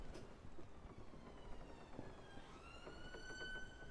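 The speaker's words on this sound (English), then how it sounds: "You probably heard an ambulance rolling past." A distant ambulance siren rises and falls over low rumbling background noise, its pitch sliding as it goes by, faint and with no voices.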